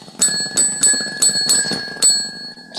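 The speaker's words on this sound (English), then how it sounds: "That's a bell as well." Bright bell rings struck about five times in an irregular rhythm, each with a sustained metallic ring, heard close and fairly loud.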